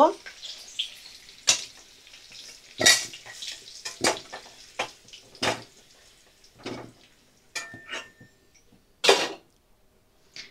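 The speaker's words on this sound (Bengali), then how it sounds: "ভালো করে দেখো ভাজা করে নিচ্ছি আলু" Potatoes fry in oil in a pan, a soft sizzle broken by repeated sharp clinks and scrapes of a utensil stirring them, the bursts coming at irregular intervals.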